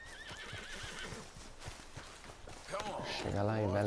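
Horse in Red Dead Redemption 2 whinnies loudly near the end, a rising and falling neigh, after a stretch of faint hoof clatter and game background sounds.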